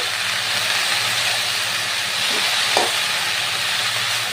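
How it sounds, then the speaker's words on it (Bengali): Water spinach sizzles in a pan over fried onion with salt and turmeric as it is stirred, a dense, continuous frying hiss with soft scraping, fairly loud and steady. "প্রায় পাঁচ মিনিট মতো এরমভাবে কিন্তু নেড়ে চেড়ে নিতে হবে"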